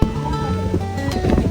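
Strong wind at a campsite in Tanay, Rizal buffets the microphone with a steady low roar and gusty rumble, heard alone without voices.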